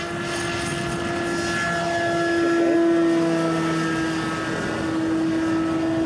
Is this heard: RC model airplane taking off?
yes